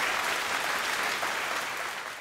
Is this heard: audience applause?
yes